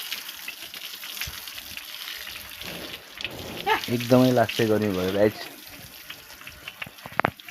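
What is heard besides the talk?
water from a motor pump pouring over a bathing buffalo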